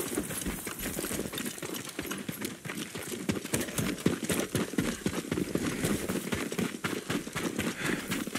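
Horse hooves clip-clop at a run in the samurai video game Ghost of Tsushima, a steady rapid rhythm of thuds close by under continuous ambient game noise.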